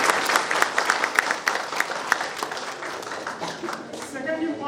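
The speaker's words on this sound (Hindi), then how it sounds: "एक बार उनके लिए तालियां बजाइए" Audience applause at an Indian college entrepreneurship talk, steady dense clapping from a crowd that swells in bursts and carries on for several seconds, with a voice faintly heard over it.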